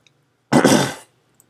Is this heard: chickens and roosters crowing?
no